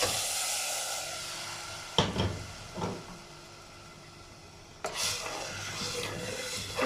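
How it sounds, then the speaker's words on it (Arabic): Rice with its water is tipped into a pan and stirred, giving a sizzling, scraping bed of sound with a couple of sharp pot knocks near the start and middle. "هننزل بيها بالرز بالميه بتاعته"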